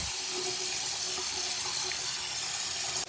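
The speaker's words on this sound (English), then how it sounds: "close up the sink and put water in it" Tap water pours steadily into a sink to fill it, a close, continuous splashing rush that stays even for a few seconds before cutting off abruptly, with no talk.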